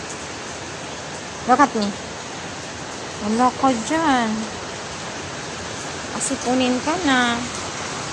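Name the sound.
rain falling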